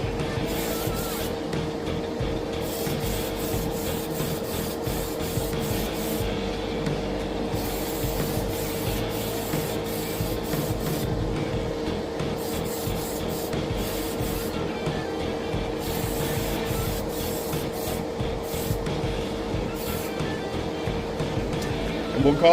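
A heavy coat of finish is sprayed over sign decals, giving continuous hissing bursts that start and stop in short pulses over a low steady background hum.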